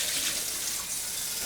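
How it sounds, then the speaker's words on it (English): Running water rinses a pho stock pot in a kitchen after the boiled bones are taken out, a steady broadband rush of water heard alone without talk. "After 10 minutes, discard the water. Take out the bones and rinse the pot."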